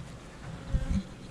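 Worker honeybees hum and buzz at the hive while bringing in nectar, a brief close drone that swells for a moment before settling back.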